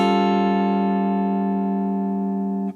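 A single sustained dominant seventh sharp five chord rings out steadily for a few seconds with a bright, buzzy electronic tone, then cuts off.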